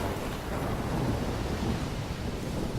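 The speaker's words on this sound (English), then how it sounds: "I've never seen a storm like this in Oregon." Storm noise from Life Is Strange, a thick steady roar of wind and rain with low rumbling thunder running throughout, loud and continuous with no pauses.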